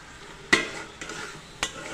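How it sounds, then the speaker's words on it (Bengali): A spoon scrapes and stirs chicken skin cooked with mung dal in a frying pan, three distinct close stirring strokes over a soft oily sizzle. "এটাকে বারবার নাড়াচাড়া করছি কারণ পুড়ে না যায় যাতে"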